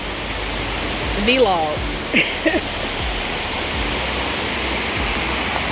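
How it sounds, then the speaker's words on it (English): The waterfall at Dunn's River Falls in Ocho Rios pours in a steady, full rushing wash, close and constant, while a voice speaks briefly over it. "Dunn's River Fall. And it's actually higher than this."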